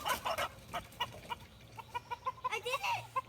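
Several chickens in a coop give quick rhythmic clucks and short calls, close and fairly loud, with no talk over them.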